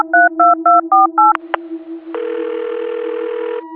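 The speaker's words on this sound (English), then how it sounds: "Then she dialed the number in the bank details." A phone number is dialed in a quick run of six short, evenly spaced keypad tones, a brief click, then a sustained ringback-style tone. All of it is loud, close and clean, with no voices.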